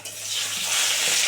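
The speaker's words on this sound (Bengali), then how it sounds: "তেল খুব ভালোভাবে গরম হয়ে গেছে, এবার মাছ দিয়ে দিচ্ছি" Large katla fish pieces sliding into very hot oil, a close, bright sizzle that rises quickly and holds steady through the short moment, with no talking.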